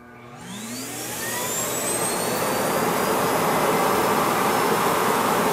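A loud, rising roar of suction as a Samsung JetBot AI+ robot vacuum's base empties it, with whining tones sliding upward before settling into a steady rush.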